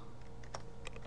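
Keystrokes on a computer keyboard while entering a short code into an Excel spreadsheet, a few soft clicks clustered over a steady background hum.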